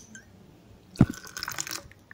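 Water poured into a glass of mango panna drink with ice, a short splash and pour lasting under a second, close and moderately loud with no talk.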